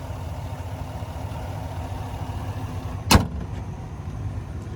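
A 2021 GMC Yukon SLE's 5.3 liter naturally aspirated V8 idles with a low, steady rumble close by, interrupted by one sharp slam of a door shutting near the end.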